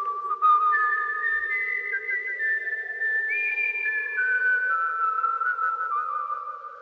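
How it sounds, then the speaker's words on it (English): Someone whistles a slow, wavering tune, notes sliding up and down smoothly and sustained, clear and close with no other sounds. "and he whistled"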